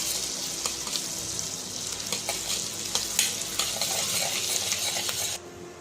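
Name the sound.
garlic and ginger paste frying in hot butter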